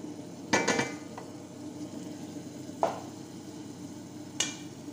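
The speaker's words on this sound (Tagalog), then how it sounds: "Habang nagigisa naman tayo ng sibuyas para sa meat." Onions being sautéed in a pan for meat: a soft steady sizzle underneath, broken by three sharp clanks of a utensil stirring against the pan, spaced a couple of seconds apart.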